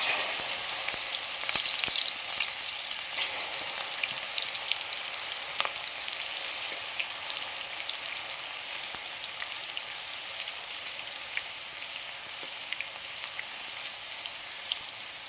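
Crispy banana chip slices fry in hot oil, giving a steady, faint sizzling crackle with occasional sharper pops, heard alone and close.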